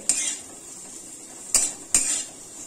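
Cauliflower being stirred in a pan over high flame, with three sharp metallic clinks of a utensil against the pan spaced apart over a faint background hiss.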